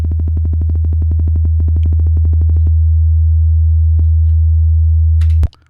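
A steady low sine-wave test tone sounds loud and alone for over five seconds, used in a phase cancellation demonstration, with faint rhythmic ticks early on before the tone cuts off abruptly.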